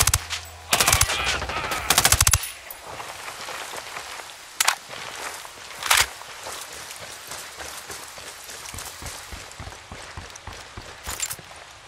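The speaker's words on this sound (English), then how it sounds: "Lobbing a flashbang. I'm opening fire." Gunfire from the video game Ghost Recon Wildlands: loud bursts of automatic fire and scattered single shots crack over a steady rushing background, with quieter stretches between the bursts.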